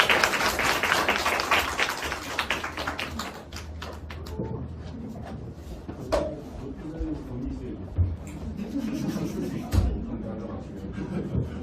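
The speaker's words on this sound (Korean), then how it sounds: "다들 박수로 모실게요" An audience at a university French education department career talk concert claps to welcome an alumna speaker, a dense burst of applause at first that thins into scattered claps with a voice speaking underneath.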